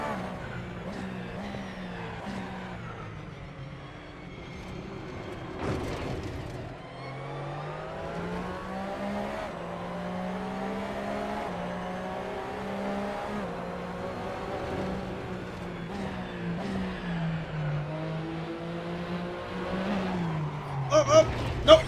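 Porsche race car engines in a sim racing game: a loud engine rising and falling through gear shifts, with a pursuing car audible close behind and brief tire squeal near the end.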